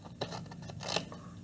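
Scissors snip through paper while cutting out an envelope, a few close crisp cuts and rustles at an uneven pace, with no talking.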